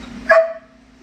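A single sharp bark from an indoor dog, loud and close, followed by a fading ring of the sound in a quiet room.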